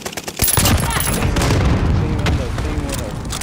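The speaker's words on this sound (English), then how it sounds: "Tossing a frag." A frag grenade detonates in Call of Duty: Warzone Pacific with a heavy, loud boom that rolls on amid crackling gunfire, with voices faintly mixed into the din.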